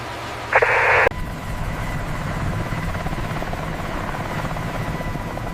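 Military helicopter of the HMLA-169 squadron running its rotors on the ground before takeoff. A short tonal burst gives way to a steady, close, continuous roar and whine of the turbine and rotor that lasts throughout.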